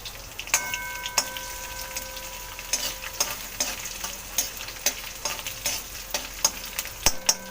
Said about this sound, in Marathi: आता मी बारीक चिरलेला त्याच्यात लसूण टाकते